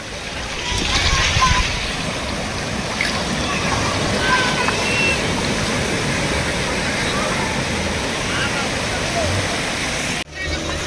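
Sea waves roll in steadily at a beach in Goa, a loud, continuous wash of surf close by with no break in the rushing water.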